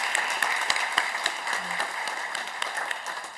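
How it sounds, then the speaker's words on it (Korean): At a Korean church Sunday service, the congregation claps to welcome first-time attendees, a moderate, even wash of applause with a few crisp individual claps. "자리에 일어나시면 우리 박수로 환영하겠습니다."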